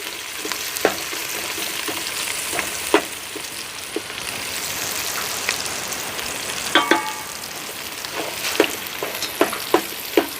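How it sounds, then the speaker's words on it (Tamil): Onions fry in ghee for a biryani, a steady close sizzle with scattered crackles and pops throughout and occasional stirring clinks. "அது இப்போ நெய்யில் பொரியுது வெங்காயம்"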